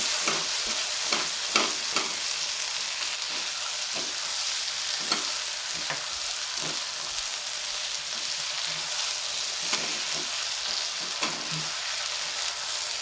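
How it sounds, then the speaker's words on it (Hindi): Chopped onions and spring onions sizzle steadily in hot oil in a pan for chicken keema, with a spoon clicking and scraping through them at irregular intervals; no one speaks. "प्याज फ्राई हो गए हैं"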